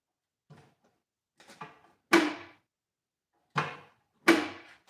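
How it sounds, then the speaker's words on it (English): Junk drawer in a garage workshop being handled, with several sharp wooden clunks and slides: a soft rustle, then three loud knocks spaced about a second apart, close by, with no talk. "I'm putting you in the junk drawer."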